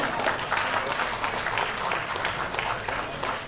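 At a Tamil film audio launch for Ram Abdullah Antony, an audience breaks into loud, sustained applause. The clapping is dense and steady throughout, with faint voices underneath.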